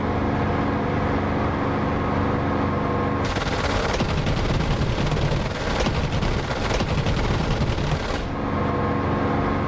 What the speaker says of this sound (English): I'm on my strafing run now